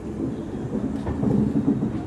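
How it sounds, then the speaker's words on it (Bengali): The Santragachi–Anand Vihar Amrit Bharat Express, an LHB-coach inaugural special, pulls slowly out of the station with a low, steady rumble and faint rolling clatter, heard alone and at a moderate distance. "আস্তে আস্তে ট্রেন বেরোচ্ছে"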